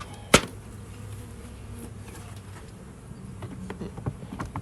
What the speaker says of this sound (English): bees have gone inside